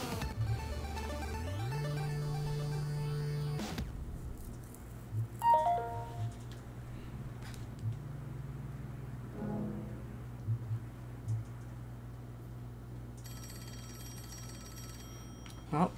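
A phone call rings in the action game Travis Strikes Again: No More Heroes, an electronic tone that begins after an engine-like hum and a sudden cut, with sparse effects in between.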